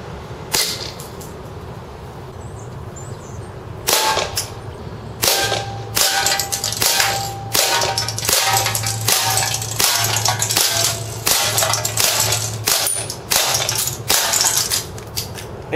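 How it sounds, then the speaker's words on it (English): Sharp cracking pops from a KWA MkII 1911 gas airsoft pistol firing BBs at a can, a rapid irregular string of close, loud shots over a steady low hum, with faint metallic ticks of hits. "Now it's time to shoot a can."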